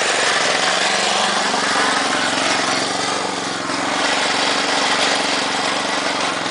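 Noisy air compressor running nearby, a loud, dense, continuous mechanical drone with a steady pulsing engine-like throb that never lets up.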